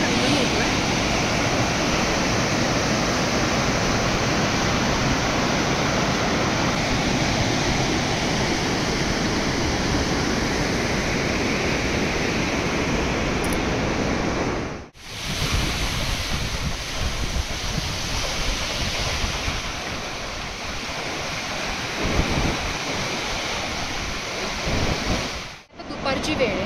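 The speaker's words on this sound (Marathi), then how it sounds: "दोन नद्यांचा संगम होतो. एक नदी म्हणजे स्पिती नदी आणि दुसरी सतलज नदी." The Spiti and Sutlej rivers rush together at their confluence in the Himalayan Spiti Valley, a loud, dense, unbroken roar of churning water close by, with brief dips as the sound cuts.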